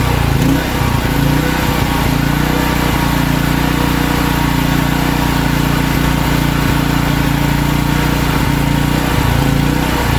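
A Wacker portable generator engine runs steadily and loud throughout, its drone rising and falling slightly as it surges, with no talk over it.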